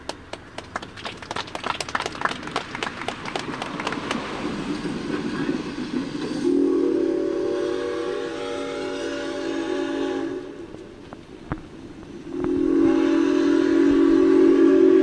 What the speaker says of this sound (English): Sounds like the train is coming through.